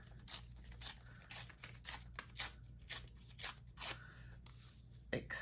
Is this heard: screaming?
no